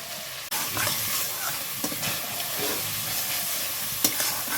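Spice paste for duck egg kalia, with fried potato added, sautéed in a pan: continuous loud sizzling with repeated spatula scrapes and clinks, a sharp knock near the start, no talking.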